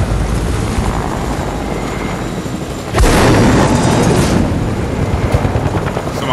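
A helicopter in the Fortnite video game roars overhead in a loud, continuous thumping rumble that swells sharply partway through, with a heavy boom-like surge, and no speech.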